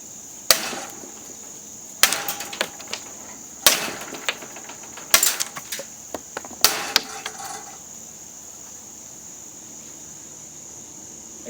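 Katana blade striking thick PVC pipe in destructive cutting tests, giving five sharp, loud cracking impacts spaced about one and a half seconds apart, each with a brief rattling tail, and a steady high whine underneath.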